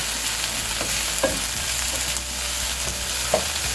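Sauce sizzling steadily in a hot frying pan while purslane is cooked with lemon and olives, a continuous close crackle with occasional stirring clinks and no voices.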